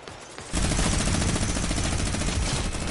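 Rapid automatic gunfire rattles continuously in a Fortnite match, a loud, dense burst of shots starting abruptly after a short quiet lead-in and sustained to the end.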